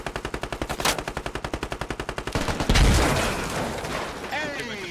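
Rapid automatic gunfire in Squad, a steady rhythmic burst of about twenty evenly spaced shots, followed by a heavy explosive boom and rumbling aftermath, likely from grenade launchers, loud and close.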